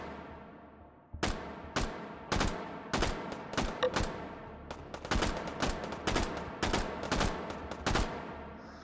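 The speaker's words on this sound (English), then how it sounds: "What was that? World War II era SMG." A World War II era submachine gun firing in the VR game H3VR: short bursts and single sharp shots repeat at an irregular pace, loud and close, with no talking.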